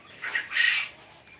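Tithi jungle chickens on a farm in Bakshiganj, Jamalpur, give two short bursts of clucking, the second slightly louder and longer, with no voices.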